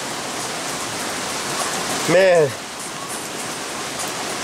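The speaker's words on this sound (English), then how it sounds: "what a rain." Heavy rain pours down steadily throughout, a dense continuous wash, with a man's brief exclamation rising over it midway.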